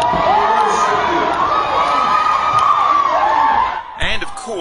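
A charismatic revival service congregation shouting and cheering in worship, loud and sustained crowd voices filling a room, with the noise dropping off near the end.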